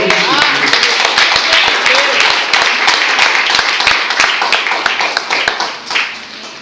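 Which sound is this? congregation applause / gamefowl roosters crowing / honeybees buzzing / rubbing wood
congregation applause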